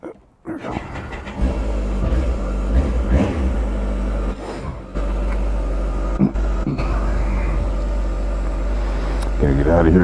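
Kawasaki ZX-14R motorcycle engine pulling away, a loud low rumble that swells and dips with brief gaps, wind buffeting over it, with a voice speaking at times.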